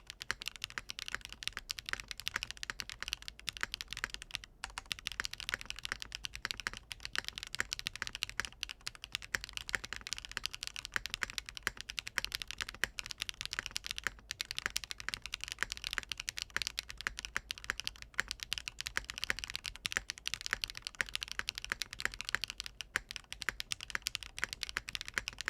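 Typing on a ZoomTKL DYNA keyboard fitted with Blueberry Milk switches, a split O-ring mount and an FR4 plate: a fast, continuous patter of soft keystrokes, heard close up and quiet, with no talking.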